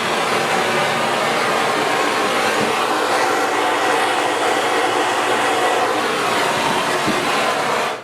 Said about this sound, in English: So all we're going to do is heat this up. You need a pretty good torch.